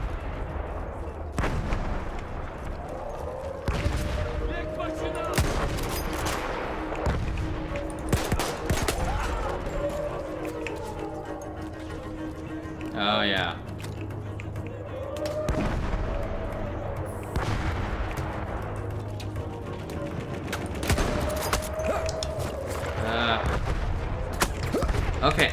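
Gunfire from a gun in the video game Battlefield 1, during the campaign mission The Last Stand: repeated loud shots and booming reports go off in irregular bursts over about twenty-five seconds, with someone talking between them.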